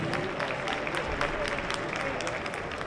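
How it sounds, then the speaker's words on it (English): Audience applause at an open amateur ballroom dance championship in a large hall, steady dense clapping throughout the short stretch. "Let's have a nice round of applause for these couples, ladies and gentlemen, in this Open Amateur Ballroom Championship."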